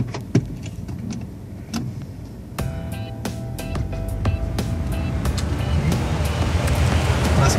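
Chevrolet Spin Activ four-cylinder engine heard from inside the cabin while driving, a muffled engine drone mixed with road and tyre noise that builds steadily, with scattered clicks and knocks early on.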